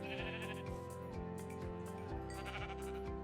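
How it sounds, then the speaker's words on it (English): Sheep bleat in the video game Minecraft on a farm, several short wavering bleats in quick succession, close and clear with no talking. "No, that was sheep. That wasn't a moo."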